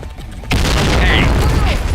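A grenade goes off in the online shooter Point Blank: a sudden loud blast hits at the half-second mark and trails into a dense, rumbling tail, with game voices mixed underneath.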